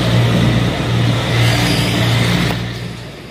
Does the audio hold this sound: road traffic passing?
yes